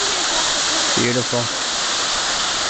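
A creek fed by waterfalls flows in a steady, loud, broadband rush close by, while a voice briefly speaks over the water.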